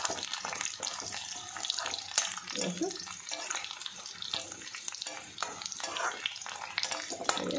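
Chopped garlic fries in oil in a pan for a paneer dish, a dense crackling sizzle that continues throughout with occasional stirring clicks, close up.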